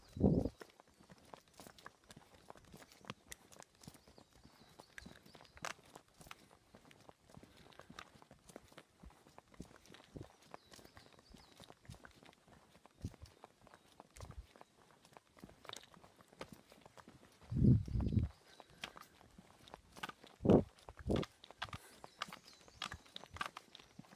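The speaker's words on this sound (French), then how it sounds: "un beau cheval" A horse walks on a lead beside a handler, its hooves giving faint, irregular clip-clop steps throughout, with a few louder knocks and thumps standing out from the quiet background.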